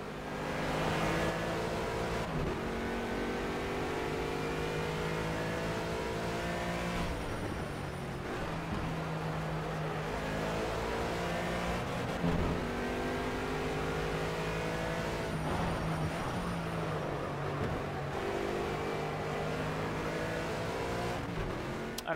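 Race car engine droning steadily at Hockenheim in Project CARS, a sustained loud drone with shifting pitch as it revs and changes gear, running alone without talk.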